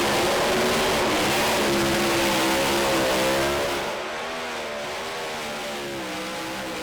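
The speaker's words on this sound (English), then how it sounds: "Sweden's fast Freddie Fagerström, always well known for his storming burnouts, but this one's almost the full length of the track" A Doorslammers drag racing car driven by Sweden's Freddie Fagerström roars through a long burnout, loud and sustained at first, then the engine note drops away and grows fainter as the car moves off.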